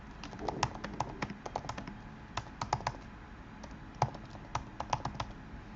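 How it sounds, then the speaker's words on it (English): Rapid, uneven clicking of keys on a computer keyboard, fairly close and clear, with bursts of keystrokes and brief pauses, no talking. "just type something in"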